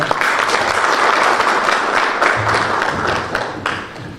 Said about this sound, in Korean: 위정윤 교수님께 강연을 요청드리는 힘찬 박수와 함께 강연을 시작하겠습니다.